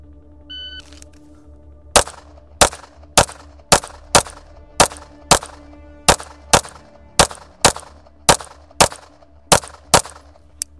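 An Atlas EOS pistol fires 15 rounds in a shooting drill, each sharp, loud crack spaced roughly half a second apart in a steady, even string after a short quiet pause, with no talking.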